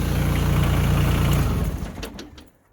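A Mahindra eMax 20S compact hydrostatic tractor idles with a steady, even engine chug, then is switched off, its sound sagging and dying away into near silence within the last second.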